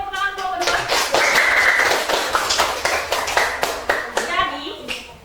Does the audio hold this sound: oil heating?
no